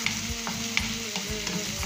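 Garlic fries in a pan for a corned chicken sisig, giving an even, close sizzle with a few soft clinks of stirring.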